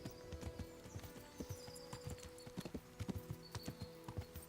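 Horse hooves clip-clopping in the medieval game Kingdom Come: Deliverance, a steady brisk trot of light repeated knocks, fairly faint against a soft background ambience.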